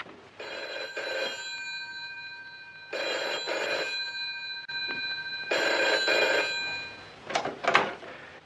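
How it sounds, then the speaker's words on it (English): An old-style telephone bell rings in a radio drama, three long bursts of ringing separated by pauses, then a short clattering handling sound at the end as the receiver is picked up, with no voices. "the phone rang."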